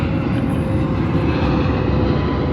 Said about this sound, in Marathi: आता तुझ्या पाठवून एक प्लेन जाणार